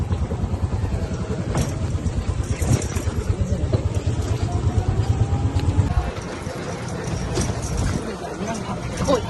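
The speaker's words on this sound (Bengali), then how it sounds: "আমরা যাচ্ছি টোটোয়" Riding in an e-rickshaw (toto) at night, with a steady rumble of road and vehicle noise throughout and people talking over it.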